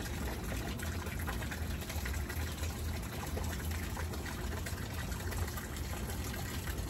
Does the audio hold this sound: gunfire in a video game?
no